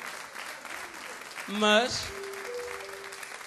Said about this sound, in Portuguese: Palmas para o Cerquido